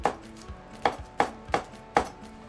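A knife chops green onion into little strips on a board, five or six crisp, evenly spaced cuts, close and clear with no talking.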